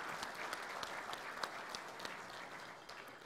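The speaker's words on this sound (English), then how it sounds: "they deserve a big, big round of applause" An awards ceremony audience applauds steadily for volunteer workers, a sustained patter of many hands clapping at moderate distance and fairly quiet, with no speech over it.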